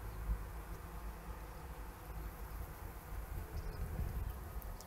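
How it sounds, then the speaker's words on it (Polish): Carniolan honey bees hum steadily at an open hive in April, a dense, continuous close-up drone of many wings with no talking. "Jest to pszczoła kraińska."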